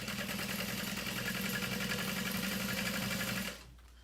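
Sewing machine running steadily while stitching with Tex 92 bonded polyester thread and a size 19 needle, a continuous close, loud mechanical whir for about three and a half seconds before stopping abruptly.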